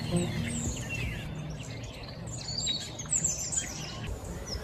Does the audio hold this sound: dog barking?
no